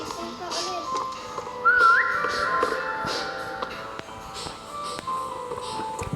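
A person whistles a single brief, rising note that rises above soft background chatter and shuffling, with voices talking nearby.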